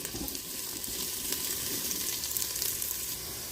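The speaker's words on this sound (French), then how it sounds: "Et je vais laisser dorer un petit moment." Onions and carrots browning in a Cookeo multicooker, giving a soft, steady sizzle with faint crackles that holds evenly throughout, fairly quiet and with no voices.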